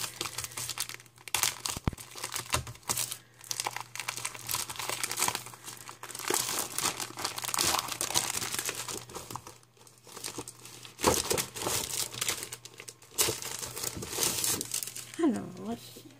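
A package is opened with repeated crinkling and tearing of paper and plastic wrapping, in bursts close to the microphone, while a person talks over the handling.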